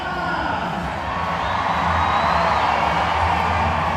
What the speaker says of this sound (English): Some fabulous Mexican wave work.